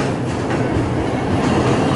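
A train runs along the Nam Tok–Thonburi railway line beside a river and cliff face, a steady, loud rumble of wheels and carriages close by with faint rhythmic clatter throughout.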